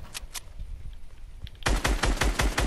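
Fortnite gunfire: a couple of faint isolated shots, then a loud close burst of rapid automatic fire in quick repeated bursts.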